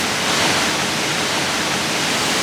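Waterfalls cascade through a canyon in Kosovo in a steady, loud, unbroken roar of rushing water that holds constant throughout, with no other sounds.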